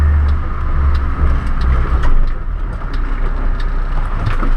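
A 1983 military Mercedes Geländewagen engine runs close by with a deep low-pitched rumble, a steady idle-like churn with faint ticking on top and no voices.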